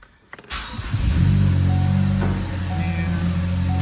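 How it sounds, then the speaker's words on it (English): A Ford Focus ST engine starts with a short cranking burst, catches and settles into a steady, fairly loud idle, heard close up with no talking. "Start the car."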